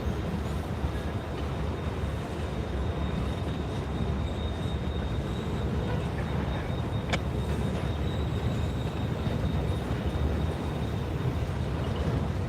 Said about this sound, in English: we have a CSX coming our way on the pass-through on the W&A sub